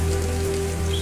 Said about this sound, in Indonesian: Nah, seperti ini kalau sedang turun hujan.